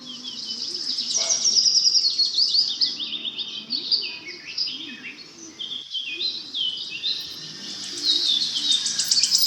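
A small bird chirps and twitters steadily in quick, high-pitched phrases, close and fairly loud, with soft lower calls and faint insect buzz behind.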